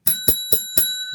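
A bell rung four times in a steady, even rhythm, each strike bright and ringing, close and fairly loud, signalling the end of a told story.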